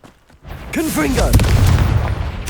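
Confringo fire spell from Hogwarts Legacy cast in gameplay, a whooshing bolt that ends in a booming blast with crackling debris, loud and close, with a voice shouting the spell name.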